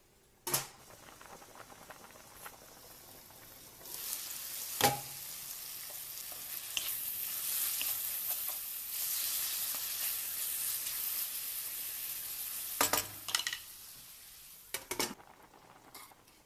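King oyster mushrooms sizzle gently in a lidded pan. A steady soft frying hiss runs throughout, broken by a few sharp clinks and knocks of the lid and utensils near the start and end.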